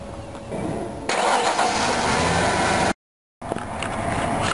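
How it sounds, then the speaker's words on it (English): A car engine cranks and catches, then settles into a loud, steady idle up close, broken by a brief dropout before the running engine returns, with no talking. "what I'll do is start the car"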